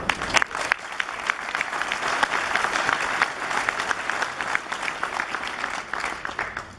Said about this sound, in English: Would everyone please rise and give a last rounding applause